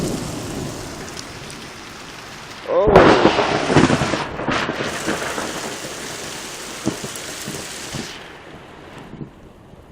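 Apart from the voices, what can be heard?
rain and thunderstorm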